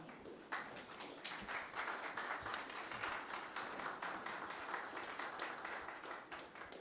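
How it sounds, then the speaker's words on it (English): Sustained applause from an audience standing in ovation at a youth parliament mock sitting of the Nevis Island Assembly, with dense steady clapping that starts abruptly and stays fairly even throughout. "they deserve standing ovation and a round of applause."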